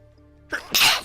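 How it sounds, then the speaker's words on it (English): A single close sneeze: a short sharp inhale building up, then a loud explosive burst, with no talking around it. "Building up a sneeze for some reason."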